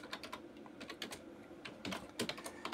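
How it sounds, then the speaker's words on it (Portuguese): Java code being typed on a computer keyboard: close, quiet clusters of quick keystrokes arrive in uneven bursts, with short pauses between runs. "aqui eu vou começar a digitar o meu código"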